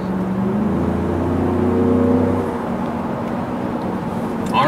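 A 2017 Ford F-150 Raptor engine runs with a rising, whirring turbo spool and a steady drone from inside the cab, then settles into lower road noise.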